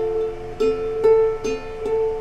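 A ukulele rings with a few plucked and strummed chord notes, four soft attacks spaced about half a second apart with sustained tones between them, close and quiet, no voices.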